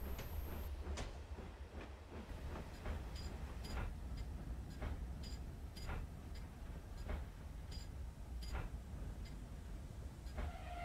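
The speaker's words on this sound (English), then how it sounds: "Later on, Timothy was at Wath when he saw Edwin, who had just dropped off a short goods train" A short goods train rumbles along continuously with a steady low roar and repeated rhythmic clicks of wheels over rail joints, close and fairly loud throughout.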